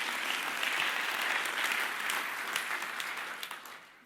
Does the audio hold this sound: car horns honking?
no